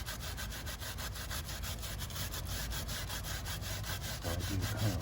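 Motorcycle chain being scrubbed free of grease, grime and old lube, a continuous rhythmic back-and-forth brushing rasp, close and steady, with no talking.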